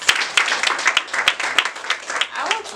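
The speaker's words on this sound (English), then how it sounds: "Please, let's give her a round of applause." Close, sustained applause from an audience at a talk, individual hand claps clearly audible in an uneven rhythm throughout, with a voice briefly heard near the end.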